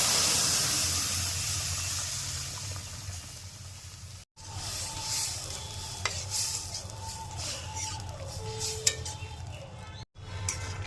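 Masoor lentil dal stirred in a wok of hot oil with garlic and nigella seeds, a loud hiss that fades, then scraping stirs and bubbling with a repeated scooping rhythm and two short breaks.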